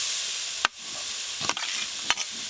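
Ginger, garlic and chopped onion fry with grated carrot and beet in a pan for a vegetable chop filling, a steady soft sizzle punctuated by three sharp spatula scrapes, with no talking.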